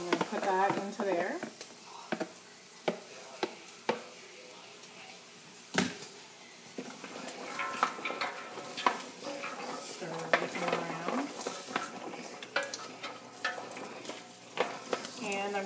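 Celery and onions cooking in a large pot for a big batch of pasta sauce, soft sizzling broken by repeated spoon knocks and scrapes against the pot, with someone talking over much of it.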